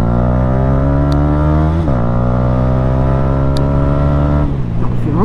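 A Yamaha R125 motorcycle engine runs loud and close, holding a steady drone with two brief revs that dip and climb in pitch.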